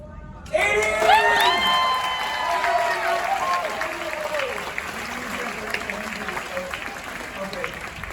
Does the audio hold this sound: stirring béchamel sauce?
no